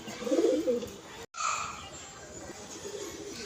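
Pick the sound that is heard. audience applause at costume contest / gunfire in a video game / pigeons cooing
pigeons cooing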